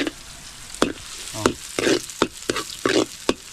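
Ginger pieces frying in hot oil give a steady sizzle, broken by several sharp scraping stirs of a spatula across the pan at an uneven rhythm, close and fairly loud, with no voices.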